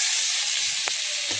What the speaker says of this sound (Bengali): যেখানে আমি রসুন কুচি দিব,